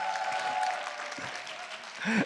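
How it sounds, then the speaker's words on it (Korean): Parents at a fifth-grade school meeting applaud to welcome the science teacher, with fairly quiet, even clapping from a gathered group that swells slightly at the end. "저희가 다 같이 인사할 때 우레와 같은 박수로 환영해 주시기 바랍니다."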